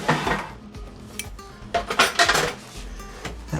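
Lemon zest is folded into shrimp pilaf in a pot, with close, loud scraping and clanking of a utensil against the pot in uneven bursts and short pauses.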